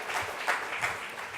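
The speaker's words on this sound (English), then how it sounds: "Big round of applause." Brief, fairly quiet burst of audience applause at a Japan Exchange Group panel event on collaboration, a steady patter of many hands with a few louder swells, heard alone without talk.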